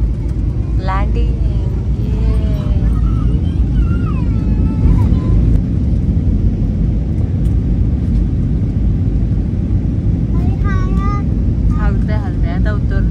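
An airliner landing in Goa, heard from inside the cabin as a steady, loud low-frequency engine and rumble roar throughout, with people talking over it.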